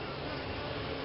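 Honeybees buzz at an open hive during an inspection, a dense, steady drone of many insects close by, continuous and fairly soft throughout the short stretch, with no talking.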